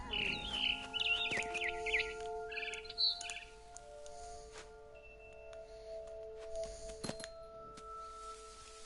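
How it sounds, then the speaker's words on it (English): A barn swallow chirps in the video game What Remains of Edith Finch, with a cluster of bright, quick chirps early on that fade into quieter sparse calls over a steady ambient drone. "Then I heard chirping outside my window. It was a barn swallow going back to her nest."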